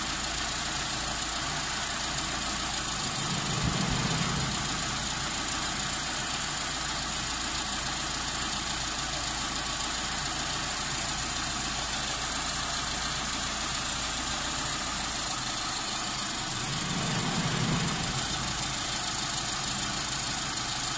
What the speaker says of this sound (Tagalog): pipihitin ko naman yung idle speed screw. Pabawas pa, counterclockwise para bumaba yung RPM.